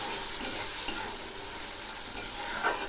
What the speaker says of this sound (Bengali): এবার আমি একটু নেড়ে দিচ্ছি।